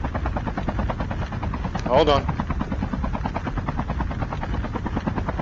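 A helicopter in a video game makes a steady, loud, close rotor chop throughout, while a voice briefly speaks over it.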